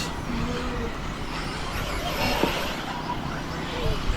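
A Schumacher Cat L1R 4wd radio-controlled racing buggy runs at a club meeting, its motor a steady broadband rush across the whole clip with a brief louder burst midway, and faint voices mixed into the background.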